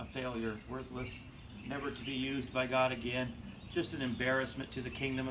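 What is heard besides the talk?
No everyday noise stands out behind the speech.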